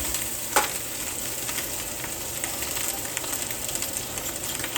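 A ribeye steak sears in a pan with butter, canola oil, fresh rosemary and garlic, giving a constant loud sizzle with crackling spatters and an early sharp clack of the pan or tongs.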